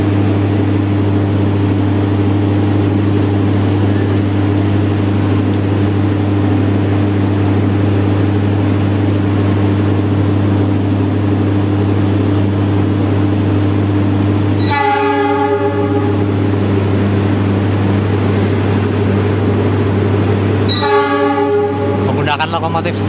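A KLB passenger train hauled by a CC 206 locomotive passes at Purwokerto with a loud, steady, close rumble, cut by two long horn blasts, the second near the end.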